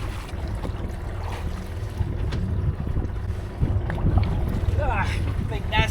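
A sailboat's port engine runs with a plastic bag caught in it off Malta, a low rumbling drone under wind and water noise, steady throughout.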